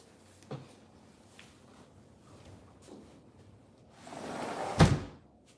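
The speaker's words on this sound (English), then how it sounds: "I'm gonna close this door." A door being closed indoors: a soft rushing swing followed by a single solid thud near the end, with a few faint knocks and bumps earlier in an otherwise quiet room.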